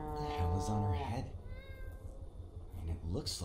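A cat in the video game Greyhill Incident gives a drawn-out, wavering meow, followed by softer cat calls, while someone speaks quietly over it.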